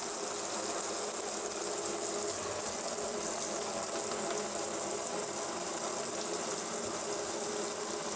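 Hot water gushing steadily from an extendable hose during litter box cleaning, a constant loud hiss with faint mechanical rattle, unbroken and without voices.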